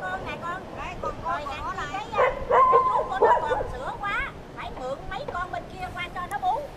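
Several dogs kept on a busy Saigon sidewalk yip, bark and whimper in quick excited bursts, with a murmur of street voices and traffic behind them.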